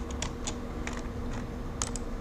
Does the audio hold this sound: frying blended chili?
no